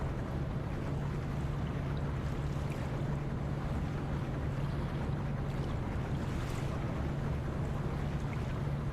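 A ship creeping slowly at 2% throttle in the Ship Simulator video game, heard as a steady low engine hum with constant wind and water wash, alone and unchanging throughout.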